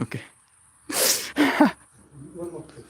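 Two sharp human sneezes burst out close together near the mic, followed by a short spoken word and quieter talking.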